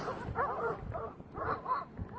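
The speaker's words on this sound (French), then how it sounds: "il y a une meute de chiens qui arrive vers moi" A pack of dogs approaches a hiker on the GR20 trail in Corsica, giving a run of moderate yips and barks near the recorder against a hissy outdoor background, with no talking.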